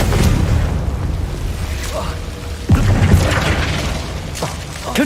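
Spell blasts in Hogwarts Legacy, a PS5 fantasy game, with a sudden booming burst near the middle over dense, continuous battle rumble and scattered crackling impacts.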